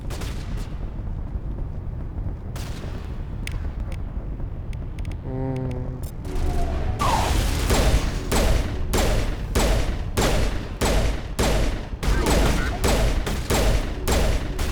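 Rapid gunfire bursts from the video game Mass Effect pound in a steady rhythm through the second half, loud and dense over a constant low rumble of background game noise.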